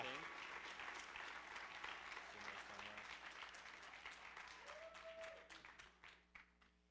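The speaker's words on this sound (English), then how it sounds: "Can we get another round of applause for Juan?" Applause rings out at a university graduation award ceremony as an honoree comes up, a sustained crowd of clapping that thins and breaks into scattered claps near the end, with some talk mixed in.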